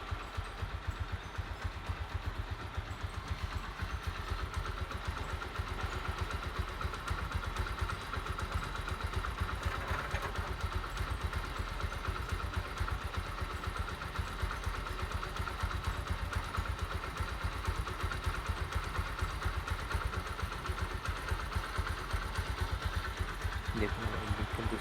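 Mahindra Centuro motorcycle idling after a diesel engine flush, a steady close mid-pitched engine drone with a light mechanical clatter running evenly for the whole stretch, no talk over it.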